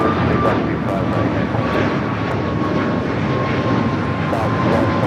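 Air Canada Boeing 787-8 Dreamliner touching down on the south side runway at LAX, a loud steady jet engine roar with a faint tone running through it.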